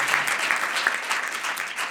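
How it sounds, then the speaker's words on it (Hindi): A congregation at a Sunday church service claps loudly for Jesus, a steady dense patter of many hands filling the whole moment without a break. "ऐसे जोरदार ताली देंगे यीशु के लिए"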